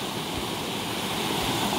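River water flowing steadily in a continuous broadband rush, even and unbroken throughout, with no voices.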